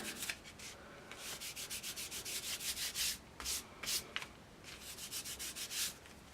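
Microglaze is rubbed by hand over dry calligraphy on an envelope, giving soft, rhythmic close-up scrubbing strokes in quick repeated bursts, quiet and alone.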